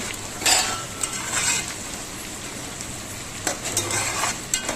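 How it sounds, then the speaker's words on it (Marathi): Onion frying in a pan for fish biryani, a continuous hiss of sizzling oil with periodic bursts of stirring and utensil scraping, close and moderately loud. "तर बघू शकता एका साईडला आपला कांदा फ्राय होत आहे"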